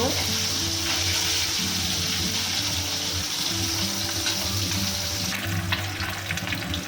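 Small morola fish sizzle and crackle in hot oil, a dense steady frying hiss, with a faint low hum and brief background talk underneath.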